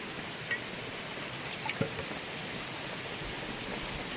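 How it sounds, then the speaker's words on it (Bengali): Steady rain falls outdoors on a wet day while fish are being prepared, a continuous soft wash of patter with a few faint, brief clicks and knocks over it. "বৃষ্টি হচ্ছে দেখুন বন্ধুরা।"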